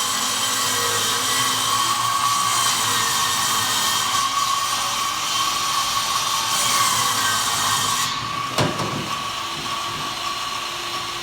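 Panel saw at Lowe's cutting plywood for a pickup truck cap camper bed frame, a sustained loud whining drone with a sharp clunk late on, no talk.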